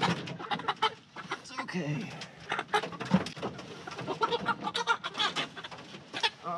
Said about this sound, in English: Light Brahmas are known as gentle giants.